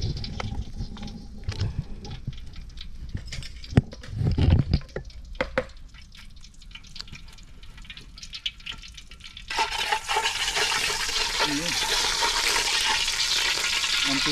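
Cooking oil starting to sizzle in a pan for pancit, a loud dense crackling hiss that starts suddenly partway through after quieter clatter and handling, and carries on steadily to the end.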